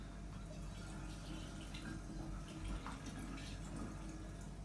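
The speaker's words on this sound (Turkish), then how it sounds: "Şimdi şişeyi 200 mililitreye tamamlıyoruz." Liquid trickles and pours into a bottle while homemade raki is being made, a faint, steady watery filling sound heard alone without talk.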